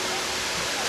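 Waterfall in a Japanese garden, the Fujita Memorial Garden in Hirosaki, giving a brief, dense, continuous rush of falling water heard close and steady.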